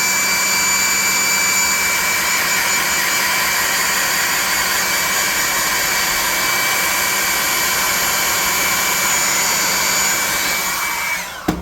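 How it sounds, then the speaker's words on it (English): A hair dryer blows on wet paint on a model crane with a steady, loud whooshing hum and a high whine for about eleven seconds, then switches off with a click. "Alright, we're going to hit this with the hair dryer."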